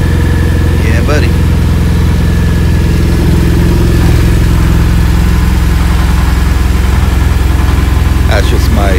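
BMW R1200GSA Rallye motorcycle engine running in a garage, a loud, close, steady idle with a deep low rumble throughout, and brief voices over it.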